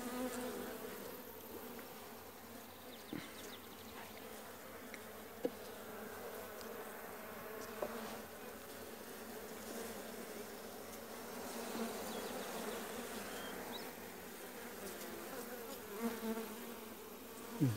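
Honeybees buzz steadily around an open, weak hive during an inspection, a dense, continuous hum close by with faint scattered clicks and no talking.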